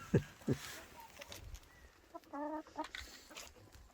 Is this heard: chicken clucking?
yes